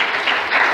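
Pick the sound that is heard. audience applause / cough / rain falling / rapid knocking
audience applause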